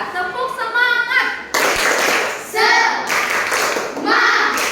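A school class does a rhythmic spirit clap in unison, sharp patterned bursts of hands alternating with a teacher's and children's voices chanting along in a classroom.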